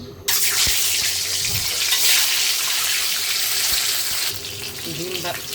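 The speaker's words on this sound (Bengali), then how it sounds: "ডিমের কোরমাটা রান্না করার জন্য ডিমটা একটু ভেজে নিব। তেল গরম হয়ে গেছে" Eggs frying in hot oil for an egg korma, a loud, steady broadband sizzle and spatter that starts abruptly and carries on close, easing slightly near the end.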